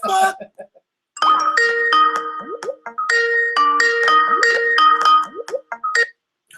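A phone ringing with a melodic chiming ringtone, repeated tonal phrases cycling loudly and close, with a brief voice at the start.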